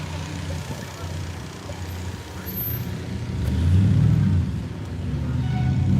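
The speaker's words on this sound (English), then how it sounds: "So there goes that truck, it looks like." A truck rumbles past on a street during an outdoor rally in Victoria, BC, its low engine drone swelling louder in the second half as it draws near, over steady background traffic noise.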